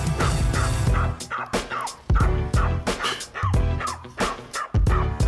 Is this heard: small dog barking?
yes